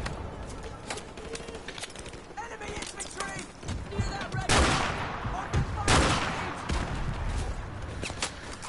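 Scattered gunfire in a shooter video game: a few sharp, close shots break through a busy, murmuring game backdrop, with two louder bursts partway through.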